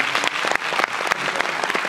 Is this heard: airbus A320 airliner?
no